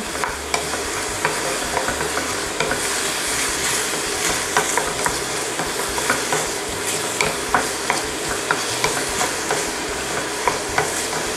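Shallots fry in a pan for a curry sauce, an even crackling sizzle throughout with a steady run of light clicks and scrapes from constant stirring, no voices.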